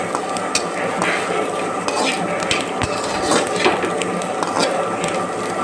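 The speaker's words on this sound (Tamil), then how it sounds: "எண்ணெயை ஊற்றி நல்லா வதக்கணும்." Ridge gourd skin sautéing in oil in a pan, with steady stirring and scraping clinks of a utensil against the metal over a continuous soft sizzle, close and fairly loud.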